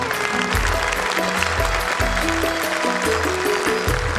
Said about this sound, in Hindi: सभी बेटियों के लिए मैं सदन से जोरदार तालियों की उम्मीद करता हूँ।